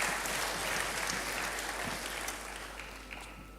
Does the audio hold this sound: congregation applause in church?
yes